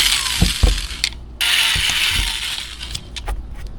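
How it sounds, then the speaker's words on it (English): A manual screwdriver turns screws into a thin plastic rear license plate on a 2026 Tesla Model Y Juniper, giving a close, loud, steady ratcheting click and grinding with a few sharp knocks, and no talking. "now I am going to use a manual screwdriver so I don't over torque things"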